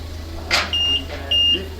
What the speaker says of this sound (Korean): 설정한 공기압까지 들어가면 삑삑삑 소리와 함께 자동으로 멈춥니다.